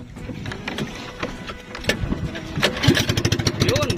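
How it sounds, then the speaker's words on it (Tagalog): A small outrigger boat's engine starts up at sea off Sorsogon, a sputtering, irregular chugging that grows louder and settles into a rapid, pulsing idle, with faint voices in the background. "Ayan, bubuksan na po yung makina."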